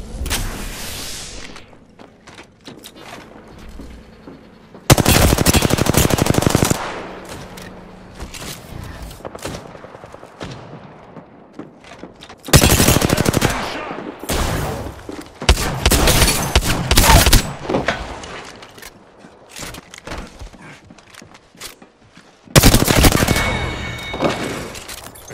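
Gunfire bursts in Apex Legends: repeated loud automatic volleys and heavy shots arrive in several separated clusters, with quieter game ambience and thuds between the bursts.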